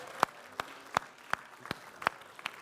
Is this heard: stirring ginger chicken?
no